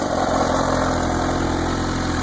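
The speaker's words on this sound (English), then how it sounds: "all you hear is the engine revving, the supercharger, and it just sounds beautiful" A supercharged 2015 Kawasaki H2 motorcycle idles steadily up close, a constant low engine drone with an even pulsing rumble and no voices.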